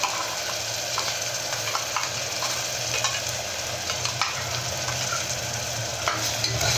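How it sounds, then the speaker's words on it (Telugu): Ground masala paste for green chicken curry fries in a pan with a continuous moderate sizzle, broken by scraping stir strokes throughout, with no voices. "ఇది కాసేపు వేగనియాలి, పచ్చివాసన పోయడానికి."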